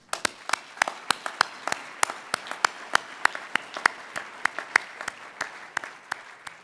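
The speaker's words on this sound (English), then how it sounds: "Please join me in applauding our generous donors." Sparse, individual claps from an audience at a mining hall of fame awards ceremony honouring donors, distinct sharp hand claps spaced irregularly across the clip, moderately near and fairly quiet, with no voices.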